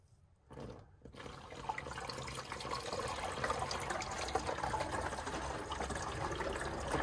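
Water poured onto a Tile Redi shower base, a soft splash that starts faintly and then builds into a steady, continuous rushing stream lasting several seconds, with no talking.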